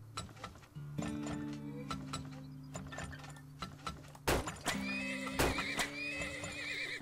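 Horses in the game Turmoil give a long, loud whinny while hooves clip-clop and gear-like mechanical clicks and ratchets run underneath, with sharp thuds near the end.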